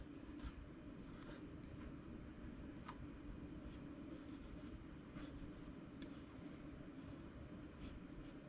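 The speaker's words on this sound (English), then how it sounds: "let me draw that in pencil first" Pencil drawing on paper, a steady soft scratching and rubbing of graphite across the sheet, continuous and close with faint repeated strokes, no talk.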